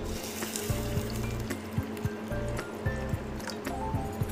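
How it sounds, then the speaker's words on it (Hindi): Water is poured into a bowl of roasted chana dal, a steady wet trickle with small drips and squishy splashes that carry on close and fairly quietly throughout. "अब हम इसके अंदर डालेंगे पानी।"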